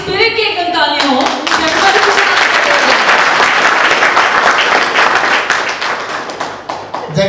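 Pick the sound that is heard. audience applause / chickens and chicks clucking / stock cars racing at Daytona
audience applause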